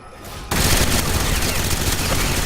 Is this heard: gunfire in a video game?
yes